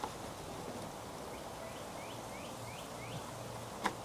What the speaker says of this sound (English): Oh, you hear that bird in the background?